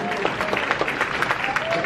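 A graduation audience claps briefly, a steady patter of applause heard under a speaker's voice.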